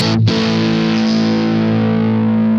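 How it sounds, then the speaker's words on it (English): Electric guitar through a Boss GX-100 processor with a blues overdrive ahead of the amp model, gritty tone: a single chord struck loud near the start and left to ring and sustain steadily to the end. "where I can put a blues overdrive into the front of the signal chain."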